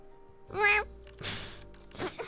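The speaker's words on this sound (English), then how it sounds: "it makes a sound that resembles a cat's curious chirping noise" A creature in a visual novel game gives cat-like chirping meows, three short, close calls spaced apart over a quiet background.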